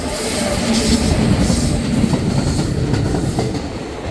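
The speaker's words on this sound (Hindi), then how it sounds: "Gita Jayanti superfast Kurukshetra Khajuraho parallel overtaking" Gita Jayanti superfast train running alongside on a parallel track, overtaking: a loud, steady close rumble and roar of wheels and carriages, with faint clatter and a high squeal early on, sustained throughout.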